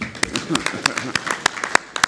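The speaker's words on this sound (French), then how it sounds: "Donc je vous demande d'applaudir quand même." Scattered clapping from a small press conference audience, about a dozen sharp separate claps in an uneven rhythm, fairly close, with voices murmuring underneath.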